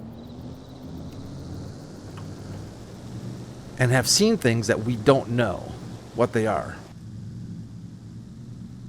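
Rain and rolling thunder from the farming video game Farming Simulator 22 form a steady low rumble and wash, with someone talking over it for a few seconds in the middle.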